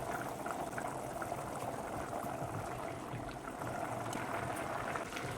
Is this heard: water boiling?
yes